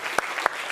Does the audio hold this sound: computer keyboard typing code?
no